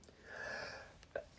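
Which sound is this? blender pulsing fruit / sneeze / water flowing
sneeze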